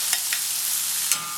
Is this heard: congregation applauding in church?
no